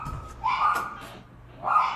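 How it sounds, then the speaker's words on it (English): Dogs whimpering and whining in high, wavering cries, two drawn-out bursts close by with a short pause between them. "I'm sorry for the dogs."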